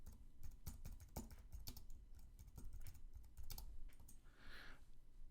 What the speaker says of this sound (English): I'm going to type in utilities expense